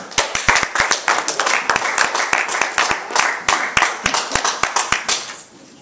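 A Toastmasters meeting audience applauds with brisk, sustained clapping that holds steady for several seconds before tapering off.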